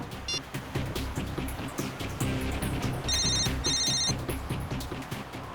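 A phone rings in short electronic bursts, twice in quick succession, over steady background music and rumble.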